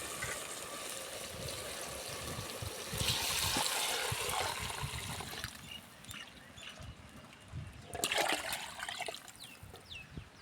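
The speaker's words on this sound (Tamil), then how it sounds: "இப்போ நம்ம புளி தண்ணியை இதை சேர்த்துக்கலாம்." Tamarind water pours and splashes into a pan with a trickling, gurgling sound, in two bursts separated by quieter sizzling, while cooking fish curry.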